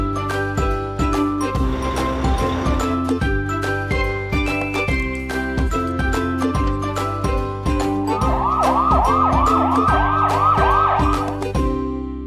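A fire truck siren wails in rising and falling sweeps during the second half, loud and steady over a bright rhythmic children's music backing.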